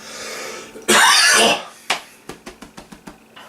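One loud harsh cough burst, then a string of smaller throat-clearing coughs in an uneven rhythm, close to the listener.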